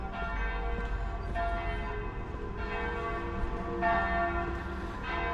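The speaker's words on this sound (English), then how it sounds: "You can hear the church bells ringing in the background." Church bells of Otley Parish Church on Kirkgate, Otley, in the Yorkshire Dales, peal steadily and fairly loudly outdoors, their overlapping rings swelling in regular waves with no talk over them.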